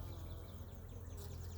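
Honeybees buzz around a hive frame holding larvae, pollen and stored syrup, a close, steady drone with a few individual bees whizzing past.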